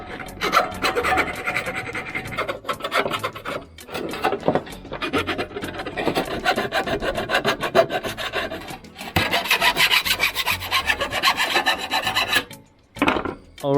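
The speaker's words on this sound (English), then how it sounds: "Now I just need to file the drill surface so that it's flat." Metal file rasping the drilled lip of a used box gutter flat, close and loud with rhythmic back-and-forth strokes, a few brief pauses and a short gap near the end.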